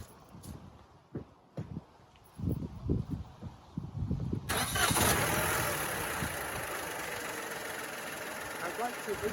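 A Peugeot 208 with a 1.2 three-cylinder engine cranks and fires up, then settles into a steady, fairly loud run with slight rises in revs, after some clicks and thumps beforehand.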